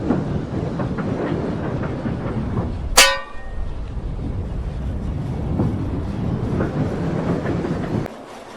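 A heavily loaded model railway train pulls out of a siding, rumbling steadily and clacking over track joints, with one sharp whistle toot near the start before the rolling noise carries on and then drops away.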